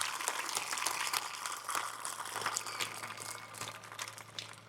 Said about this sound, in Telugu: ఒకసారి మనసు పూర్తిగా గట్టిగా సంఘ ప్రతినిధులకు గట్టిగా చప్పట్లు కొట్టాలి